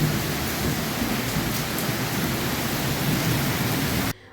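Heavy rain pours steadily in Lahore, a dense, loud hiss of downpour with faint rumbles beneath, cutting off abruptly near the end.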